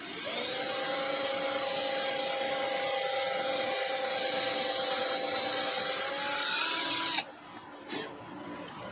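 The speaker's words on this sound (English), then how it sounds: "Now we're going to drill this." A steady high-pitched power drill whine, drilling a bass guitar body with a depth stop, runs for about seven seconds, then cuts out, leaving quieter handling noises.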